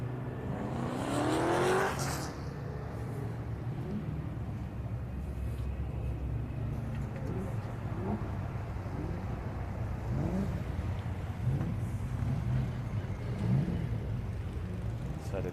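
BCV8 race cars sit on the grid at Donington Park, their engines rumbling and revving in a loud, continuous mechanical roar. One sharp rising rev stands out near the start, and there is no speech.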